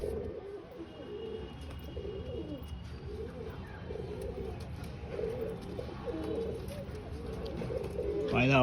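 Pigeons coo again and again in soft, rolling phrases as they settle back into their loft, close by over a quiet background of low ambient noise.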